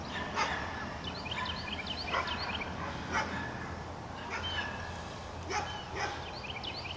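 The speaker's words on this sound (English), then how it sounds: "Lieutenant Mike Potter walking his dog, running his dog." A police K-9 dog out for a run with its handler barks repeatedly at a moderate distance, sharp woofs spaced about a second apart over steady outdoor background noise.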